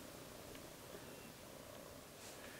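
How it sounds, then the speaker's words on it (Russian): A domestic cat purring in a rural Ural house with a Russian stove, a soft, steady, continuous rumble heard close and quiet with no other sounds. "она уже на тебя сразу же залазит и начинает мурчать"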